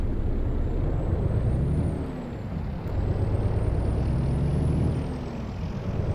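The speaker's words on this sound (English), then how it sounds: "That truck sounds amazing beside us." A heavy truck in American Truck Simulator rolls alongside with a loud, steady engine drone whose pitch rises and falls as it passes close by, with no talking.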